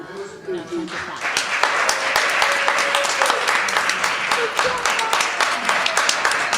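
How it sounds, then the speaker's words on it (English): A live audience at a community church service gives a loud, sustained round of applause and cheering, building after the first second and continuing steadily with voices mixed in. "let's please give a round of applause for those"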